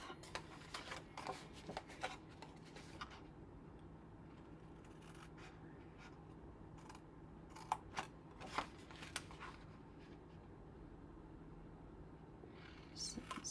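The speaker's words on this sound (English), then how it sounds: "we're just going to cut all those pieces off" Scissors snipping pieces off a folded card box craft, a run of quiet, scattered clipped cuts with soft paper rustling in a hushed room.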